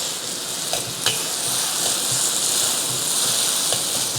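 Beef hor fun, Malaysian Chinese style with ginger and spring onion, being stir-fried in a wok: a steady, loud sizzle and hiss runs throughout, broken by a few sharp clanks and scrapes of the spatula against the metal.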